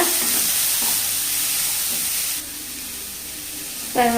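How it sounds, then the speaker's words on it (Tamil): Shredded cabbage sautés in a hot pan for a home-style Tamil dish, giving a steady loud sizzle with soft stirring scrapes that drops in level partway through, then a sharp clatter at the end. "முட்டைக்கோசு லைட்டாக வதங்கி வரணும். 1 நிமிஷம் அளவுக்கு நல்லா வதக்கிக்கோங்க."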